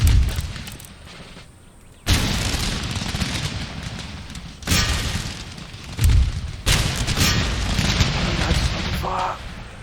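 Musket regiments fire volleys in Empire: Total War, several loud, crackling bursts of massed gunfire arriving at irregular intervals, each rolling on for a second or more, with someone talking between and over them.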